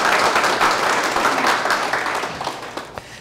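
Listeners at a company lecture applaud, a burst of many hands clapping that starts strong and gradually thins and fades over a few seconds.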